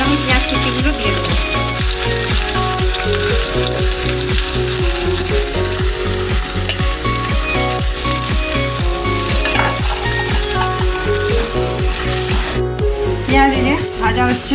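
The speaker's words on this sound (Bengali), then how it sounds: "পেঁয়াজ দিয়ে ভাজা হচ্ছে, লাল করে আমি পেঁয়াজটাকে একটু ভেজে নেব।" Chopped onions fry with meat in a pan in a loud, steady sizzle, while music with a regular beat plays over it throughout.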